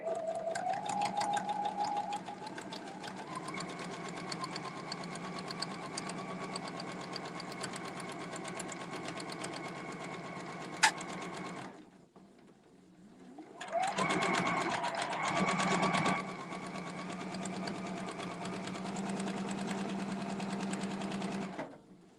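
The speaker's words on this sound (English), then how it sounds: "Okay, so I'm just going to stitch." A sewing machine stitches a quilt along a template, a steady close mechanical whir running continuously, pausing briefly near the middle, then resuming at the same even pace.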